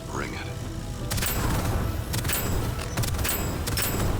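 Gunfire in the video game Deadzone Rogue during a wave defense fight, repeated sharp bursts of shots over a rumbling background, with someone talking throughout.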